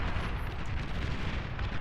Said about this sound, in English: Big ass explosion right smack in the middle of Barcode